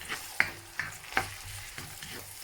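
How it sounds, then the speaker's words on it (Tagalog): Onions sautéing in a pan for ginataang chicken, a soft steady sizzle broken by several sharp scraping stirs of a utensil against the pan, close and fairly quiet. "Igigisa lang po natin ng kaunti"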